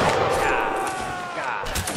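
Musket gunfire in the online battle game Mount & Blade: Napoleonic Wars, a loud crackling shot rolling into a dense smoky rumble, with another sharp report near the end.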